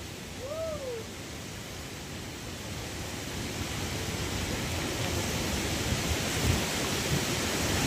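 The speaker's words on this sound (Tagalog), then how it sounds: "palakas ng palakas po yung hangin" Strong typhoon wind roars steadily in a dense, rushing wash of noise, loud and unbroken, with a brief whistling howl near the start.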